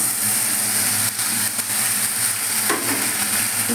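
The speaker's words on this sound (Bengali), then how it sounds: "পেঁয়াজ রসুনটা আমি একটু কষিয়ে নিই।" Onion and garlic fry in a little oil in a wok, giving a loud, constant sizzle with a few brief stirring scrapes and no voices.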